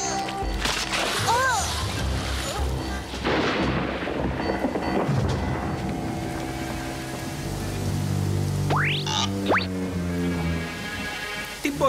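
Thunder rolls and booms through a stormy cartoon scene, with rain beneath it and other animated sound effects, including whistling tones, layered over the storm.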